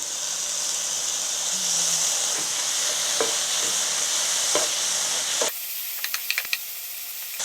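Tuna being stir-fried with crumbled tofu in a pan over high heat: a steady, loud sizzle and hiss with occasional scraping stirs, then a cut to a quieter spell of light clicks and taps.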